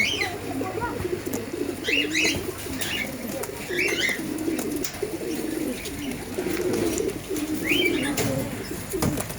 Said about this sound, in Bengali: এই পায়রাটাকে দেখুন, দুর্দান্ত কোয়ালিটি হয় পায়রার।